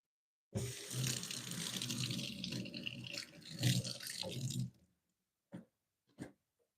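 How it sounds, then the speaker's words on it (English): Wooden kitchen utensils and boards are rinsed under a running tap, with a few seconds of splashing flow into a sink and then two short knocks after the water stops. "So we're going to give these a quick rinse, actually."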